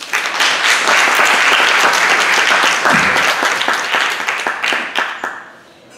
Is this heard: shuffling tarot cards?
no